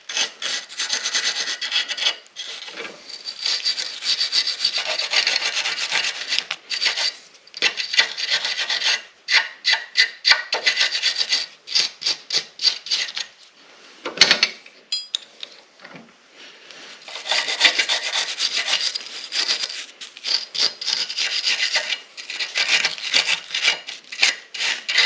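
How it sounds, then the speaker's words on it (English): A steel wire brush scrubs slag off cut masonry nails in quick, rasping back-and-forth strokes, close and continuous, with a short pause partway through before the scrubbing resumes. "we're just going to take a wire brush and clean off any slag that might be hanging off of these guys real good"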